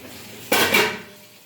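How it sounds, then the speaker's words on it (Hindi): Dishes, pots and pans being washed after a meal, a single sudden burst of water and clattering metal that swells briefly then fades, heard close with no talk. "हरियाली चिकन खाने के बाद पति बर्तन धो रहे हैं।"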